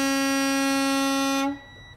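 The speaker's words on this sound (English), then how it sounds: "you always have to have two toots" The air horn on a 2022 Renegade Verona LE 40LRB motorhome blares a loud, close, steady tone for about a second and a half before cutting off, followed by a faint brief echo.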